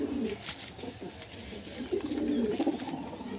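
Pet pigeons at a home loft cooing in soft, repeated low throaty calls, several birds close by in a quiet setting.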